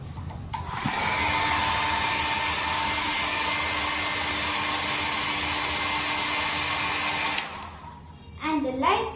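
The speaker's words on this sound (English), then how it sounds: "we use a blow dryer to rotate the fan continuously" A hair dryer roars steadily at close range for several seconds, blowing on a small fan in a model house, then clicks off; a voice starts speaking afterward.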